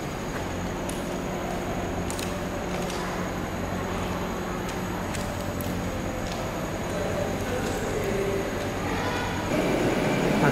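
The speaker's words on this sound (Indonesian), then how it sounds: "Masih ini dia kereta kita menuju Cikarang" A KRL Commuterline electric train, eight cars, bound for Cikarang, rumbles steadily and loudly throughout, with faint metallic clicks and squeaks over the continuous roar.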